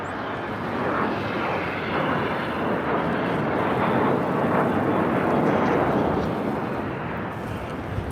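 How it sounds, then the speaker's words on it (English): Cessna Citation Latitude business jet departing LAX on a short hop to Long Beach, a loud sustained roar of jet engine noise that holds steady and swells slightly before easing off, heard alone without talk. "The Cessna Citation Latitude is making a short hop to Long Beach"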